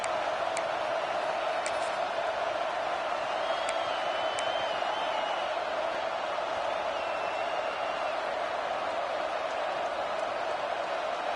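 A football stadium crowd at Penn State vs Florida roars in a loud, unbroken, distant wash of cheering that holds steady throughout, with a few faint whistles above it.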